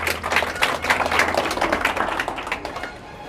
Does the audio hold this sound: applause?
yes